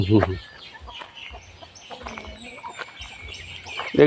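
Chickens at a temple in Lampang, Thailand, cluck and squawk close by, with louder bursts at the start and end and softer clucking and rustling in between.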